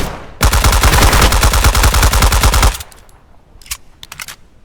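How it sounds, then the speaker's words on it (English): Sustained automatic gunfire from the Deadside shooter game, loud and rapid for about two seconds, then trailing off into faint scattered shots and clicks. "Great recoil control there, Luthais."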